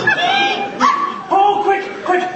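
A dog gives a series of yelping, whining barks, about four close, loud bursts in quick succession, in a stage musical setting; the sounds may be a person imitating a dog.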